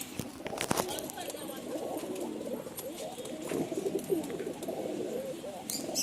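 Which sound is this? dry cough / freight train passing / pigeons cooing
pigeons cooing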